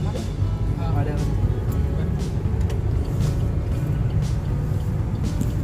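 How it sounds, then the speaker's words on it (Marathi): A road vehicle passes close by, its engine and tyre rumble filling the whole stretch as a steady, loud roar, while voices talk faintly underneath. "गाडी जाते ना"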